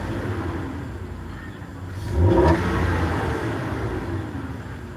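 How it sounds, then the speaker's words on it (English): A car engine with a throttle fault that makes it cut off or backfire, idling low, then briefly revving with a swell of rumble midway before settling back to a steady idle. "Let's see if I can rev it."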